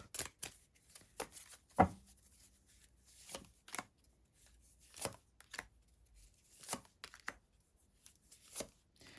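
Cards are shuffled in short, crisp riffling bursts, about a dozen of them, separated by near-silent pauses.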